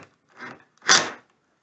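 A screw is tightened into a wooden ladder shelving unit during assembly, producing two short, close creaking, grinding turns separated by a brief pause, with nothing else heard.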